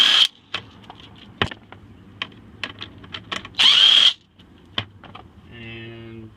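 Hand tool working 10 millimeter bolts on a Ford F250, sharp metallic clicks and taps scattered irregularly close by, with a brief louder burst midway and a faint hum near the end.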